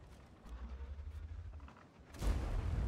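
A low mechanical rumble runs under the scene until a muffled, booming tank cannon shot from a Leopard 1 medium tank in a video game bursts out near the end, fairly faint overall.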